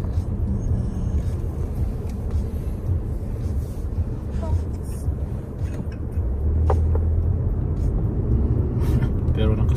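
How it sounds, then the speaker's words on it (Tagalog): Road traffic in Canada, with cars stopped and creeping forward slowly, heard as a steady low engine rumble from inside a vehicle. A voice talks over it, and the rumble swells louder near the end. "Ganito na ang traffic sa Canada. Ito yung itsura ng traffic."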